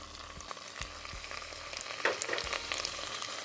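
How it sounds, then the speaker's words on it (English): Browned ground beef sizzles in a pot for lasagna soup while tomato paste is stirred in, with soft scraping and clicks of a spoon and a steady low fry throughout. "Just want to mix it in until it's well combined"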